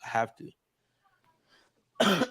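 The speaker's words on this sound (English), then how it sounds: "I'm still dealing with this cough" Two sharp coughs, one at the start and one at the end, are separated by near silence with faint background sounds.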